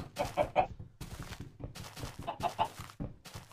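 Chickens clucking in the blocky survival game Minecraft, several short bursts of clucks in quick succession, fairly loud and close, with brief pauses between groups.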